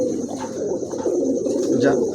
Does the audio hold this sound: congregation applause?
no